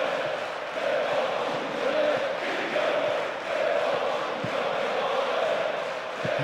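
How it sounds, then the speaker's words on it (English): Crowd noise from the PES 2009 football video game on PC forms a steady, moderately loud stadium roar with gentle swells, continuous throughout and without clear individual voices. "I have to say the crowd is adding to this as a spectacle. The noise they're making is terrific."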